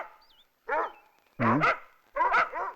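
A dog barks three times close by, short sharp barks with pauses between them and no talking.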